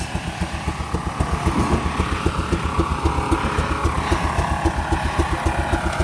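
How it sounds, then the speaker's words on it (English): A wood-powered steam engine chugs along steadily with an even, rapid pulsing beat. It is moderately loud and mechanical, with no talking over it. "I got another wood-powered engine, steam engine of course."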